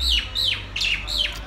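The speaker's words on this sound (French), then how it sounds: "Il fait exprès cet oiseau, je crois." A bird calls out four quick, sharp, descending chirps in an even rhythm, close and loud against a low background hum.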